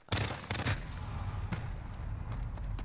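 Pistol gunfire in a one-on-one video game match, two quick loud shots near the start, then a fainter shot and a busy game background.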